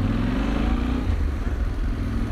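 A motorcycle engine, a Honda Transalp 750 or Yamaha Tenere 700, rumbles and revs nearby in a narrow street among small stone houses, its deep throaty sound reverberating off close walls, with no talking.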